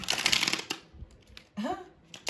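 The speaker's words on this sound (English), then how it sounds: "These cards don't want to shuffle." Tarot cards riffled and shuffled close by, a dense papery flutter followed by quieter handling noises and a brief voice-like tone.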